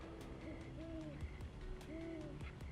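An owl hoots in an animated children's moral story: repeated wavering hoots, two clear calls spaced a second or so apart, over a soft background bed with no talking.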